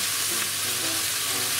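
Corn and a pat of butter sizzle in a hot pan over strong heat, a dense, steady frying hiss that stays close and even throughout.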